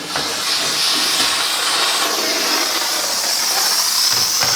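A Bissell Power Steamer Heavy Duty steam cleaner blasting steam while scrubbing near a kitchen stove, a loud continuous close hiss with slight fluctuations and no talking.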